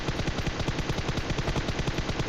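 Sustained automatic gunfire in the mobile battle royale game PUBG Mobile, a rapid steady stream of loud shots with no pauses, alone without talk.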